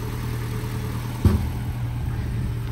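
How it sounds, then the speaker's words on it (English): A Land Rover Series 3 short wheelbase petrol engine with freshly overhauled valves idles steadily and quietly, a smooth low drone with one brief louder bump partway through and no one talking. "So as you can hear, ticking over nicely now, nice and quiet."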